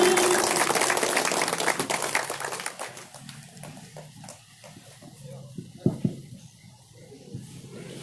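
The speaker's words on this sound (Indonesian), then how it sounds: "Beri tepuk tangan yang meriah." A crowd at a political candidates' declaration event applauds a speech: dense clapping for about three seconds that then fades. Scattered thumps, shuffling and faint voices follow in the quieter remainder.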